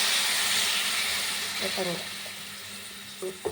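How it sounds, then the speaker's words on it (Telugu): A loud steady hiss of water poured into a hot pan of broad beans, fading gradually over a few seconds, with brief voice fragments breaking in near the end. "ఇదండి నేను వాటర్ వేస్తున్నాను"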